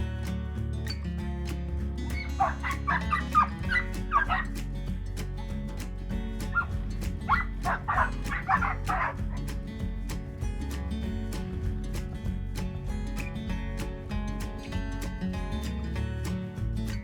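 A dog barks in two short clusters of yips and whimpering barks at mealtime on a farm with pigs and an orphan chick, fairly faint against a steady low background hum.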